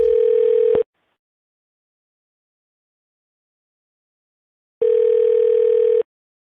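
Ringback tone on a phone call to the City of Sarasota Commissioner's Office: two clear steady buzzing rings, a short one then a longer one, separated by about four seconds of silence.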